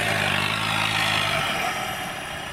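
A manual-transmission car with a weak, run-down battery idles steadily close by, a broad continuous engine drone with low rumble that eases slightly toward the end, no voices.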